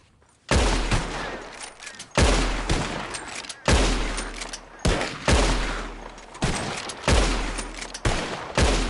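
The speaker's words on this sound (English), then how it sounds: "whoever shoots 4 birds out of the sky first wins" Gunshots fired at birds in Red Dead Redemption 2 ring out as six loud, sharp reports spaced roughly every one to one and a half seconds, each with a booming onset and a lingering echoing tail.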